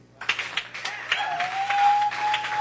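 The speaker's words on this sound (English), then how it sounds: "I want you to just keep clapping." An audience at a hip-hop and poetry event breaks into applause after a poetry performance, the clapping starting sparse and swelling into a steady, moderately distant ovation with a faint tone running beneath it.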